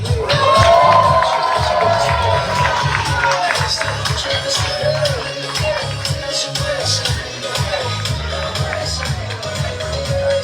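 A crowd at an award ceremony honouring people at the Haitian embassy in Chile claps and cheers loudly, with dense rapid clapping and shouts continuing throughout and voices mixed in.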